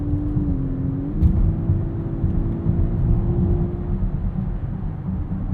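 2024 Volkswagen Atlas Cross Sport on the move with its 8-speed automatic, a steady engine hum under road rumble, the engine note dropping sharply as a gear change comes early, then holding even.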